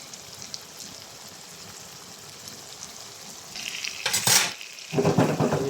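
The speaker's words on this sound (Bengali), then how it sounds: "এটা আমি ঘুরিয়ে ঘুরিয়ে ফ্রাই করে নেব" Potatoes fry in a pan with a soft, steady sizzle that carries on quietly for several seconds. Toward the end, two louder bursts of scraping and crackling break in as the potatoes are stirred. No voices.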